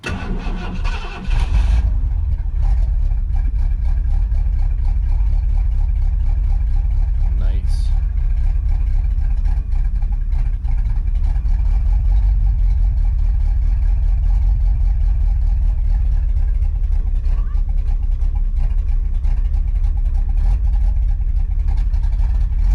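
An engine cranks briefly, catches and settles into a steady, loud, rumbling idle that keeps running evenly with a constant low throb.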